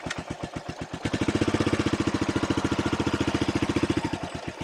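A Suzuki S40 single-cylinder motorcycle fitted with a new exhaust thumps steadily at idle and then picks up slightly, each firing pulse distinct and evenly spaced, loud and close throughout with no talking.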